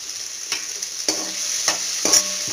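Tomatoes with turmeric and salt sautéing in a pan, a constant close sizzle broken by four regular scraping stirs of a spatula, alone without talk.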